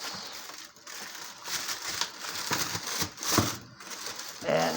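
Crinkly plastic bag rustling in bursts and crackles, close by, with a few exclamations from a voice mixed in.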